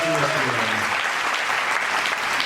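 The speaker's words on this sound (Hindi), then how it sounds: "सर जोरदार तालियां होनी चाहिए।" Loud, sustained audience applause in a hall during a network marketing training session, dense clapping throughout, with a voice briefly sounding over the opening moment.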